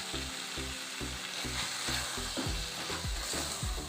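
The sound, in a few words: tomatoes frying in a pan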